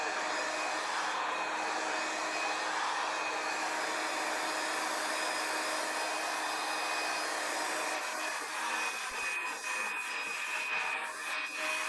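A hair dryer runs steadily and loudly at close range, blowing across an alcohol ink rose painting under epoxy resin to dry its edges, with a continuous broadband whoosh that shifts slightly as the airflow is moved near the end.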